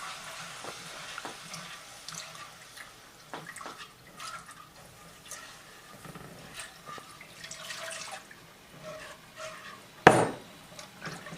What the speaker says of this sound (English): add our milk slowly, whisking as we add our milk